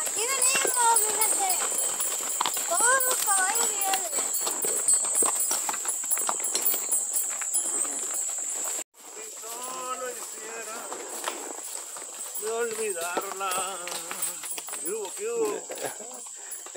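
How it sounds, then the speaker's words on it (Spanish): Several horses walk along a ranch trail in Sinaloa, their hooves clip-clopping steadily near and far beneath almost constant Spanish talk and shouting, with a brief dropout midway. "Todos los caballos vienen."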